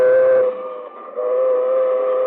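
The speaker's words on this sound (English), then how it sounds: "And here comes the train." A steam-style train whistle sounds in an old-time radio mystery drama as a train approaches a road crossing, with sustained chord-like blasts that dip briefly in the middle and then swell again over a low rumble.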